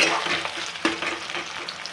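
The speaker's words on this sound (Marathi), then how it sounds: "आपण बटाटा परतून घेऊयात व्यवस्थित" Potatoes sautéing in a pan for sabudana khichdi make a steady close sizzle, with scraping stirs and one sharper clack of the utensil partway through.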